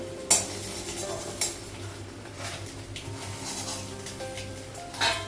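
Food fries in a pan while a utensil stirs it, a soft continuous sizzle broken by several sharp clinks and scrapes of metal against the pan.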